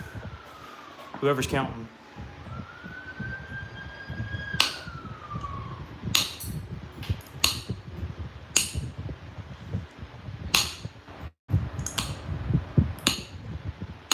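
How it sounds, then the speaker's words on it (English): An ambulance siren wails faintly in the distance, rising and falling before fading, while sharp clicks and scrapes of flint knapping sound nearby and a person speaks briefly. "Oh, there's another ambulance."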